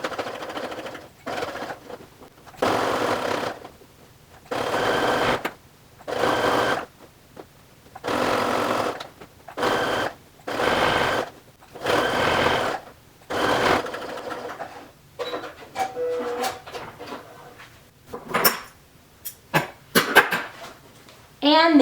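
A sewing machine topstitches right beside piping on a round fabric storage basket, running in about nine evenly spaced short bursts, then a stretch of softer handling noises and clicks toward the end.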